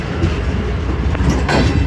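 Jaffar Express passenger train, fully packed and overloaded with people sitting in the AC Standard doorways, rolling past nearby with a steady loud rumble and clickety-clack of wheels on rails, growing busier toward the end.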